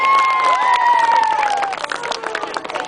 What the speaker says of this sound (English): Let's have a big round of applause for Danny Butler.